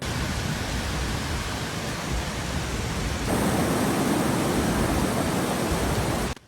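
Courtallam's main waterfall in heavy flood after rain, a dense, unbroken roar of rushing water that swells slightly louder partway through and continues alone.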